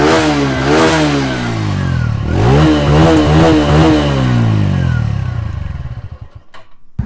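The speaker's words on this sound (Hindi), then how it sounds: "आपको इसका एग्जॉस्ट नोट सुनाता हूँ" A 2022 TVS Radeon 110 commuter motorcycle's exhaust note, revved repeatedly in rising and falling sweeps, loud and close, then settling toward idle before a final blip.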